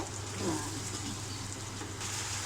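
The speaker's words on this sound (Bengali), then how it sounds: "টক দই দিয়ে নাড়াচাড়া করবো" Biryani masala frying in a pan with sour yogurt stirred in, giving a steady, close sizzle with a low hum beneath and no voices.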